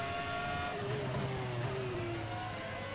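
Several race cars in RaceRoom run side by side, three abreast, their engines droning loud and steady as one pitch slowly falls away while another holds, with no talking.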